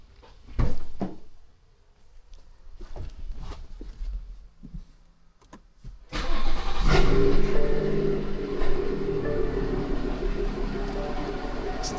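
A catless, stage 2 tuned BMW 440i starts with a burst of cranking after a few door and cabin clunks. It settles into a loud, steady idle rumble, close and alone.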